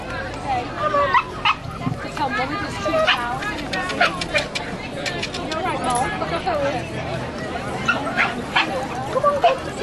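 Several dogs whimpering, yipping and barking excitedly close by, overlapping in a busy jumble with people's voices in the background.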